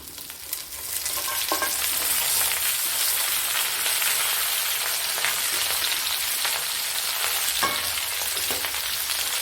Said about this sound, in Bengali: আলুটা একটু অল্প একটু ভাজা হয়ে এসছে এর মধ্যে এবার সজনে ডাঁটাটা দিয়ে দিলাম